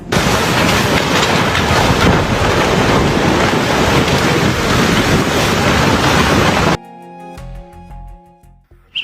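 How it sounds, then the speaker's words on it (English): Raging floodwater flowing like a sea: a loud, continuous roar of rushing water that holds steady for several seconds, then cuts off abruptly into near silence. "into a flowing sea, with raging water so intense that people can only stand back and watch from a distance"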